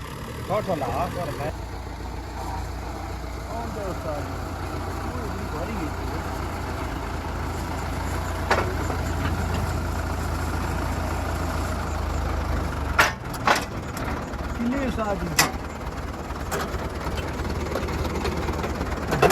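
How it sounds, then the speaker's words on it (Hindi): A farm tractor with only front lights works during a wheat threshing gathering, its engine rumbling steadily and close at hand before moving off, with brief sharp clanks and knocks later on. "ट्रैक्टर जा रहा है"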